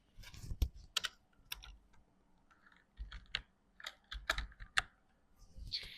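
Keys clatter on a computer keyboard as a search term is typed, coming in quick irregular bursts of clicks separated by short pauses, close and fairly quiet.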